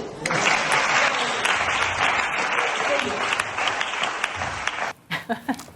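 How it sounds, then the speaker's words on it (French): Studio audience applause at a French talk show, a dense sustained burst of clapping that carries on for several seconds and then breaks into scattered last claps. "Applaudissez."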